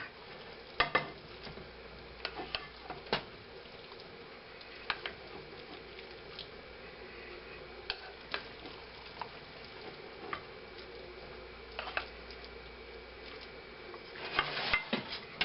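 Chicken and dressing being spooned into a baking dish, heard as scattered clinks and soft scraping thuds of a utensil against the dish, fairly close, with a low background hum and a clatter near the end.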